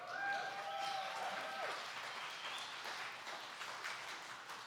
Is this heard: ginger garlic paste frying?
no